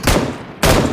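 Two loud, close gunshots fired at vehicle tyres in the mobile video game PUBG Mobile, each a sharp blast trailing into a short decay, spaced about half a second apart.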